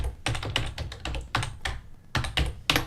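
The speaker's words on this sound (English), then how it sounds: "So hit Control R twice and type interacting." Quick typing on a computer keyboard, close and clear, a brisk run of key taps in irregular bursts with short pauses, no voices.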